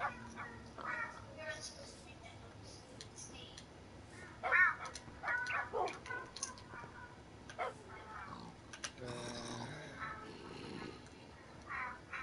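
A dog in the video game Minecraft yips and barks in a few short bursts near the middle, mixed with game sounds while a person talks over most of it.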